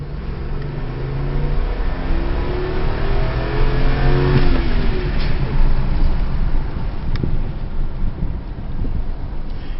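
A 2005 Ram Dakota V8 pickup engine accelerating from inside the cab, a loud rising drone that climbs through the gears with a clear shift midway, steady road and wind rumble underneath and no talking.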